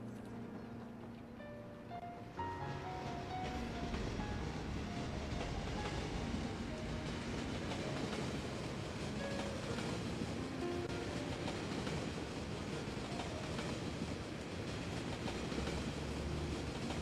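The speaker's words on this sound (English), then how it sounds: "intercity train station to the right" An intercity train in Cities: Skylines rumbles steadily at close range after a quieter start, with a continuous roar, rhythmic rail clatter and faint tonal hums running for many seconds.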